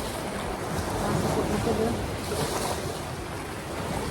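Broadband wash of ocean surf, steady and fairly loud, with waves rolling continuously and a hint of wind across the microphone.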